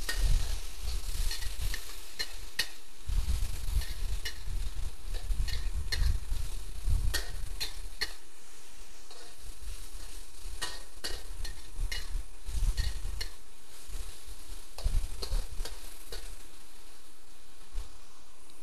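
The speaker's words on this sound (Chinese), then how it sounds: "放入蟹肉丝、红萝卜、木耳、丝瓜， 略微拌炒之后" Crab meat, carrot, wood ear mushroom and luffa sizzle in a hot wok while being stir-fried, a steady close crackle broken by repeated sharp clicks and scrapes of the spatula.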